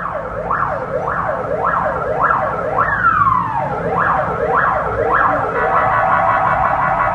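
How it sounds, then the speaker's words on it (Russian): Wailing emergency sirens from ambulances and fire engines at the scene of a road crash, several overlapping rising-and-falling wails with a horn-like blare midway, loud and continuous against street noise, no talk. "На место прибыли три скорых и две пожарные машины."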